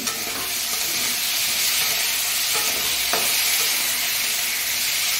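Food frying in a pan while being stirred, a loud dense continuous sizzle close up, with a few light scrapes and knocks of the utensil.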